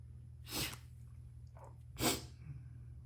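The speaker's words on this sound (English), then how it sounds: "Sniffling." Two sharp sniffs through the nose, about a second and a half apart, close and fairly quiet over a faint hum.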